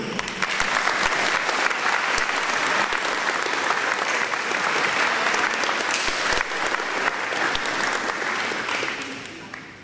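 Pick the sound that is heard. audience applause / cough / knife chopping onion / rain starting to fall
audience applause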